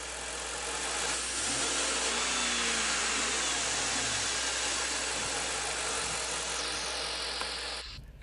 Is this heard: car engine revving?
yes